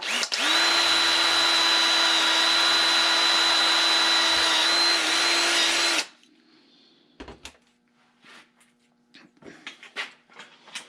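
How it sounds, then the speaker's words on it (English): A loud, steady electric drill whines continuously for about six seconds boring a 1/8-inch rivet hole in a door, then stops abruptly, followed by quiet clicks and small handling noises. "So you take an 1/8" drill, which is 125"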